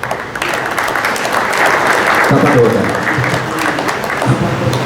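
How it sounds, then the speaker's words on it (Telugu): Applause from the crowd at a district conference of a Telangana workers' union, loud sustained clapping filling the hall, with a voice on the public address briefly over it toward the middle and end. "కొద్దిగా సంతోషంగా చప్పట్లు కొట్టుకుంటే విన్నాను"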